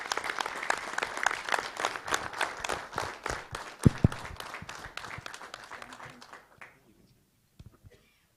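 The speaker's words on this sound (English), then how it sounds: "Mr. Rahul Bothra, with a big round of applause." Audience applause welcoming a speaker at a live business session, a full round of clapping that holds steady for several seconds, then thins and fades out, leaving a few scattered claps near the end.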